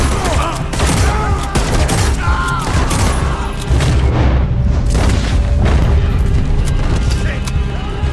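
Gunfire in Red Dead Redemption 2 rings out as loud, dense booming shots in overlapping volleys with no pause, while someone talks over the shooting.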